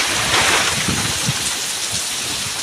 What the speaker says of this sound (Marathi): तर वाराने पाऊस